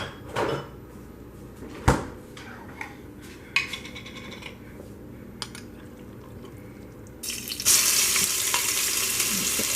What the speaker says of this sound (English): the oil has melted, and I'm now going to put some of my green seasoning in there